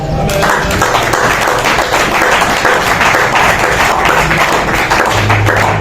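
A church congregation applauds God during a Sunday worship service, producing a loud, steady wall of clapping that fills the whole stretch without a break.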